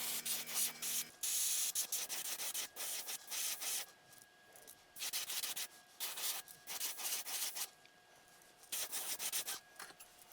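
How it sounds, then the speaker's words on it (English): An airbrush lays green pumpkin paint as an overspray onto the underside of a fishing lure, giving repeated close bursts of airy hiss separated by short pauses. "So a nice overspray onto the bottom of the bait, or onto our other color that's on the bottom of the bait."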